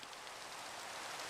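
Steady rain from the Minecraft video game hisses continuously as an even, soft wash of noise with no voices.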